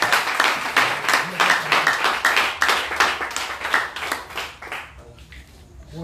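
A church congregation claps together in praise of Jesus, a dense, steady run of handclaps at close range that fills most of the moment before thinning and fading near the end.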